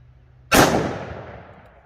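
A 5-inch 1911 pistol fires a .45 Super Underwood 185-grain JHP round in one sharp, loud, close crack that rings out and fades over about a second.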